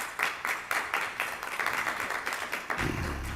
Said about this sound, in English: I'm not sure that we get applause that often, but always grateful